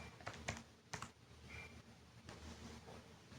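Keys tapped on a calculator while working a statistics exam problem: faint, quiet clicks in short irregular bursts, with a few sharper taps standing out over low background noise.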